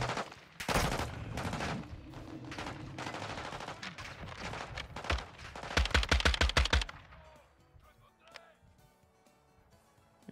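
Rapid game gunfire in loud, close bursts, building to a fast automatic string before dropping off to quiet ambience near the end.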